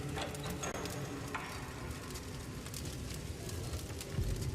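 Steady crackling and sizzling fire in a horror video game, a dense continuous hiss with scattered pops running throughout at an even level.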